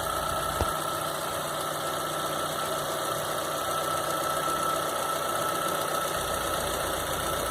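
A repaired Chevrolet Onix engine idles with a steady, even mechanical hum and faint ticking, heard close and continuous for several seconds with no voices over it.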